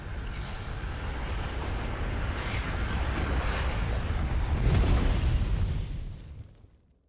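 The supernova in Outer Wilds, a deep, roaring rumble that builds steadily over several seconds, peaks in a loud surge, then fades quickly to silence, with no voices.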